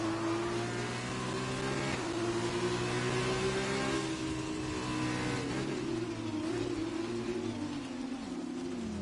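Formula 2 race car in a racing game at Suzuka, a loud, sustained engine drone with shifting pitch as it revs and holds speed, alone with no talking.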